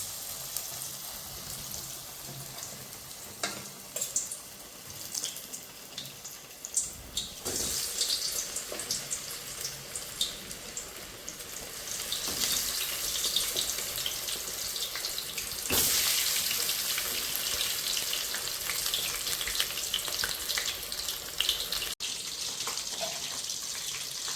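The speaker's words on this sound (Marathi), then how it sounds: "तेल चांगलं कडलं आणि यामध्ये आपण आता हे खेकडा पाय तळून घेतो" Crab legs fry in hot oil with a steady, dense sizzle and crackle that grows a little louder midway, heard alone with no talking.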